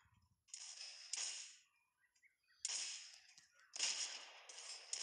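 Gunfire from a video game in AWP mode comes in sharp bursts, two groups of cracking shots with decaying tails and quiet gaps between, moderately loud and without talk.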